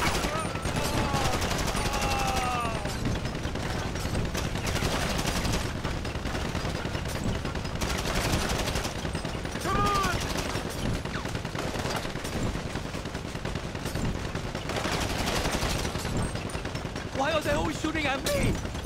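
Dense, continuous gunfire rattles through a Diamond Casino heist shootout in Grand Theft Auto V, with rapid overlapping bursts and some fainter higher-pitched game sounds, while people talk over the constant noise.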